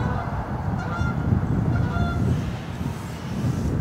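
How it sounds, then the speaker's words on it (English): Geese honk repeatedly as they fly in overhead, a flock calling from a moderate distance over a constant low rumble of background noise. "Got some geese coming in."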